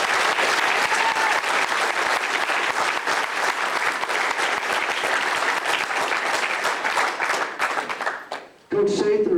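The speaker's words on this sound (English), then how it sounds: "So let's give Coach Rock a big round of applause." At a football team banquet, the audience gives the coach a big round of applause, a loud, dense, sustained clatter of hands that fades out near the end before a voice resumes.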